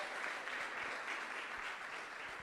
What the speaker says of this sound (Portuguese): Dá uma salva de palmas a Ele.